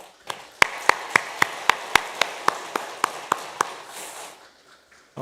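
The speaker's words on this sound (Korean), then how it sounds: "여러분 환영의 박수를 한번 해주시기 바랍니다" A small church congregation claps in welcome for a newly arrived education minister during Sunday worship, a sparse run of about a dozen distinct, evenly spaced claps that thin out and fade near the end.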